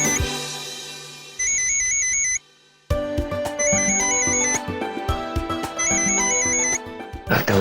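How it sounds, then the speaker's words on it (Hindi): A mobile phone ringtone repeats a bright beeping melody in loud bursts over a dramatic background music score in a household scene. "लगता है उन्हीं का फोन है।"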